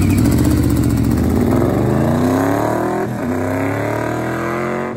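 Yamaha VMAX muscle bike engine running loud and close, with a deep throbbing tone that climbs steadily as it revs, dips briefly, then holds at a high pitch.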